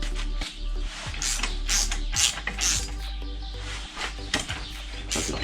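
Loosening the rear wheel axle nut on a Honda 600 Transalp motorcycle, a close series of metallic clicks and ratcheting scrapes in irregular bursts over a low steady hum, without speech.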